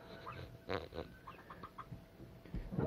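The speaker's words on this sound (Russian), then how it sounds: "Вот такие вот у нас цыплятки." Broiler chicks in a brooder peep and cheep in short scattered high calls, several birds close by with a light shuffling background, no talking.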